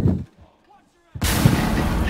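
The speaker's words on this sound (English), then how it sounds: "I threw a nade to get rid of barbed wire." Grenade blast in a first-person shooter video game, a loud, abrupt boom that cuts in after a short quiet gap and rumbles on to the end, following a brief burst of game noise.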